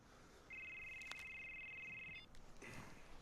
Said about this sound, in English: Isn't that Dad's phone?